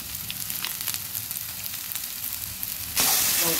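Onion, ginger and garlic sizzle steadily in hot oil for a Bengali katla fish curry, with chili powder added; a sharp, louder burst of hissing jumps in near the end.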